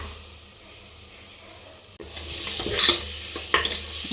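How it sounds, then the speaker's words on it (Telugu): Mutton paya is stirred with masala powders in a hot pan, quiet at first, then a sudden burst of loud sizzling and scraping as the pieces are turned, with sharp clinks near the end. "ఈ పాయ వేసిన తర్వాత బాగా కలుపుకొని మసాలాలని బాగా పట్టించాలి పాయకి."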